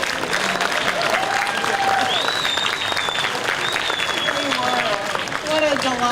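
A concert audience claps steadily for a trio, a dense, even wash of applause that runs the whole time, with faint voices rising and falling above it.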